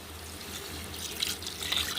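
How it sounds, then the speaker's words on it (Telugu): Water is poured into a pot of mutton curry cooking on a stove, a soft, brief splashing trickle over a faint background hum. "ఇప్పుడు నేను వాటర్ వేస్తుంటున్నాను"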